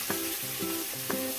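Bitter gourd and potatoes sizzle in a frying pan, a steady hiss of hot oil broken by short, rhythmic scrapes and stirs.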